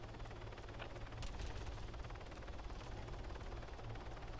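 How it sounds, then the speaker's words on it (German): A helicopter's rotor thrum in the video game Arma 3 chops steadily throughout overhead, fairly faint and continuous, with a few brief higher clicks scattered over it. "Da ist ein Helikopter. Über uns."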